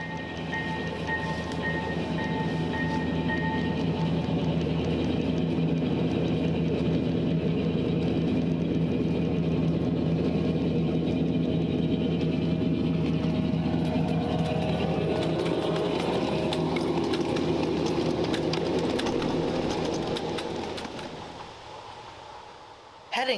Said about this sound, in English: Next up, we catch the Santa Fe F7s headed over the Warren Truss Bridge into Park